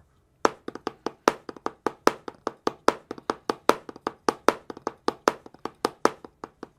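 Rapid drum strokes in a steady sixteenth-note pattern, with quick double-stroke diddles woven in, crisp and close, continuing without talk.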